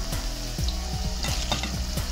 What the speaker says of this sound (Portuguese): a gente vai fritar também mandioca